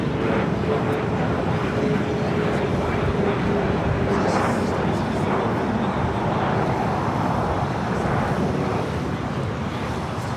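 A Boeing 787-8 Dreamliner jet at LAX airport roars steadily at a distance, a broad continuous rumble mixed with wind buffeting and traffic noise, no clear voices.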